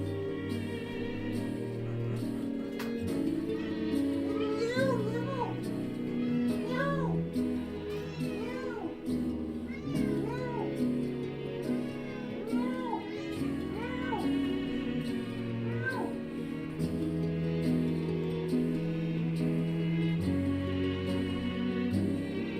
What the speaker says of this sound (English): So loud, kitty.